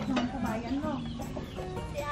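A rooster on a rural farm clucks and squawks close by in short bursts, with people talking over it.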